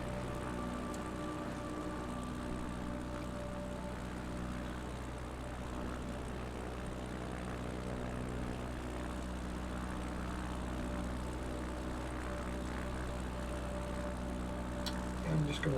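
A propeller plane flies over a dry riverbed in Etosha National Park in Microsoft Flight Simulator 2024. Its engine keeps up a steady, droning hum with constant tonal layers throughout, fairly quiet and without talk.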